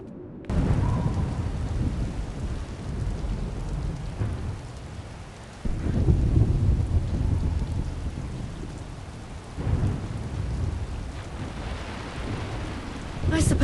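Steady heavy rain pours down, and low rolling thunder swells up in several waves, loud and close, with no voices.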